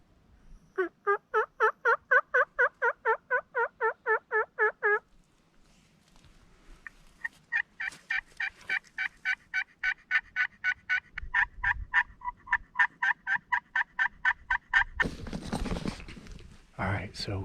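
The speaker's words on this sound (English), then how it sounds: "we just heard some gobbles back to the northwest of us" Wild turkeys gobbling from the roost at sunrise in long rapid rattling bursts, loud and fairly close, several calls in a row, with a brief rustling noise near the end.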